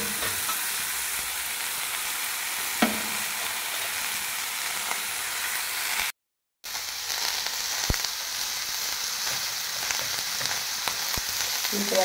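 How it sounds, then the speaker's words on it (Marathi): Raw val bean pods sizzling steadily in a hot pan for a Marathi home-style vegetable dish, a broad close hiss broken by a short silent gap and a few scattered clinks and stirring knocks. "नंतर मी याच्यामध्ये टाकते या कच्च्या घेतलेल्या वालाच्या शेंगा."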